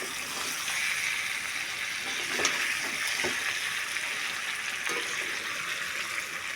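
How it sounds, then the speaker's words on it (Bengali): Poppy seed paste sautéing in a pan while cooking chicken, a steady soft sizzle with faint scraping stirs and a few light clinks, close and continuous without speech. "পোস্তটা আমরা অনেকটা কষিয়ে নিচ্ছি ভালো করে"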